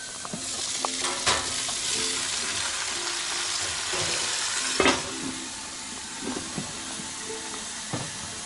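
Sausage, mushrooms, peppers, potatoes, onions and carrots fry in a pan with a steady, close sizzle and hiss, broken by a few sharp pops and clicks of utensils.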